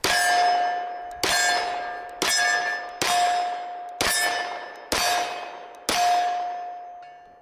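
Seven loud, evenly spaced clangs ring out from a steel target struck by a Dan Wesson Kodiak 10mm 1911 pistol fired one-handed. Each strike has a sharp attack and a sustained metallic ring that fades before the next, about a second apart.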